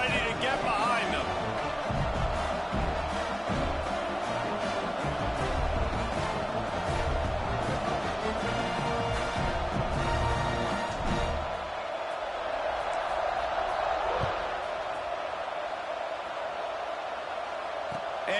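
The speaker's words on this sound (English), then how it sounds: "this crowd now ready to get behind them" A stadium crowd at a Stanford vs Purdue college football game keeps up a steady, broad roar throughout, with a commentator talking over it.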